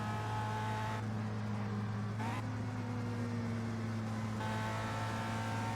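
Race car engines from the Indianapolis 500 Evolution video game at the 1965 Trenton 300, a steady loud drone with shifting pitch as cars run close together, continuous throughout with no talking.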